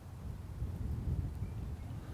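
Low, rumbling wind buffets the microphone continuously, a steady muffled roar with no voices.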